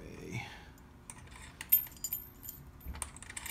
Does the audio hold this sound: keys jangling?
yes